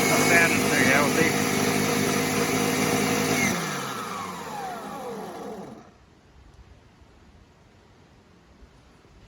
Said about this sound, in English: I think that's all the high pressure cleaner, right? It's actually not sounding too healthy.